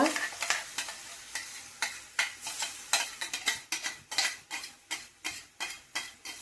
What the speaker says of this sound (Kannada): ಇವಾಗ ಎಣ್ಣೆ ಕಾಯ್ದಿದೆ. ರುಬ್ಬಿದ ಮಸಾಲ ಹಾಕೊಳ್ಳೋಣ.